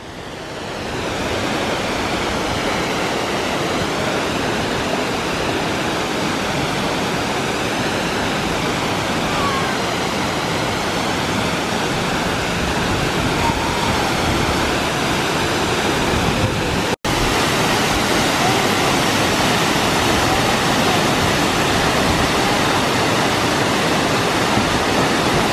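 A strong waterfall gives a loud, unbroken broadband rush of pounding water that keeps going without letup, broken only by one brief cut near the end, with no voices heard.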